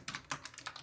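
Code being typed on a computer keyboard, with quick, soft, close keystrokes in an uneven run and no voices over them.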